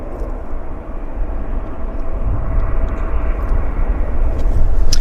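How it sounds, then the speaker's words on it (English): An aircraft on approach to Vancouver airport gives a loud, steady broadband roar that builds slightly, heard from the ground with no talking. "we've got another aircraft setting up on approach here"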